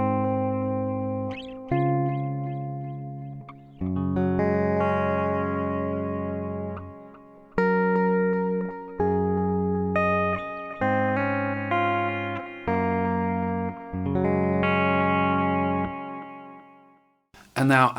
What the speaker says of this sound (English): So I'm dialing back the amount of wet to get the sort of amount of delay that I want.